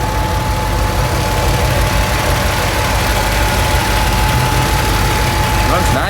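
A 1951 Ford flathead V8 with Tri-Power carburetion idles steadily up close, a loud, even low rumble holding throughout with a faint whine above it.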